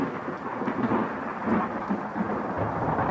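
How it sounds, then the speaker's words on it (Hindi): Deep rolling thunder rumbles continuously amid steady rain, loud and close, with no voices. "तभी बादल गरजने की आवाज़ सुनाई देती है"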